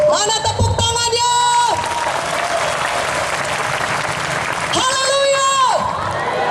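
A congregation at an evangelistic revival service in Sibolga, Indonesia applauds loudly and continuously, with voices shouting and cheering over the clapping in two bursts.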